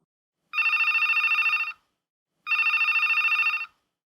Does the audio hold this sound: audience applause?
no